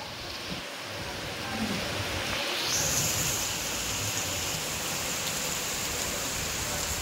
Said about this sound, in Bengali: এতদিন পরে বৃষ্টি হইলো